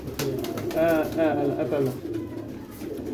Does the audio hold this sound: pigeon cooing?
yes